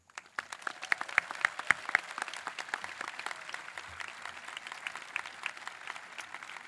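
An audience at an induction ceremony applauds to welcome the class of 2025, steady crowd clapping with a few sharp individual claps near the start, sustained and moderately loud.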